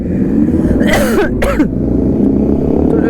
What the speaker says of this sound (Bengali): ঠান্ডা লেগে ভাই কাশি হচ্ছে অলরেডি